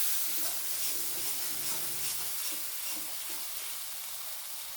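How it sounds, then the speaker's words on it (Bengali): A small splash of water goes into a spice paste frying with Kashmiri chilli powder in a vegetarian aubergine dish, setting off a steady, close, crackling sizzle and hiss that slowly eases, with no talk. "সামান্য একটু জল দিয়ে দেবো।"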